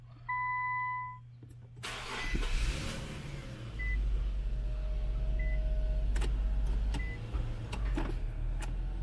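An Infiniti Q50 starts up with a brief crank after some quiet chimes, then settles into a steady idle close by, with a few sharp clicks and a faint tone over the running engine.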